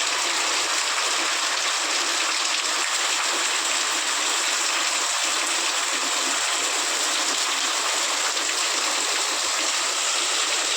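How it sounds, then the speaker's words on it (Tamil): Rainwater rushes and gushes along after heavy rain, a dense, steady, fairly loud hiss of flowing water that continues unbroken throughout, with no voices. "பாருங்க ஃப்ரெண்ட்ஸ், தண்ணி எப்படி போகுதுன்னு. இங்கெல்லாம் நல்லாவே மழை பெய்யுதுங்க ஃப்ரெண்ட்ஸ்."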